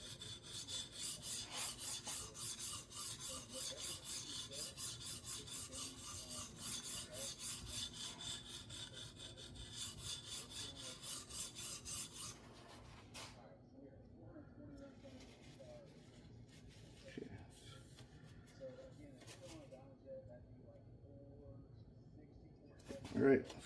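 A Leatherman Wave blade is reprofiled at 17 degrees on a TSPROF Alpha sharpening stone, with rhythmic back-and-forth rasping strokes, close and quiet, that ease off into softer, sparser scraping toward the end.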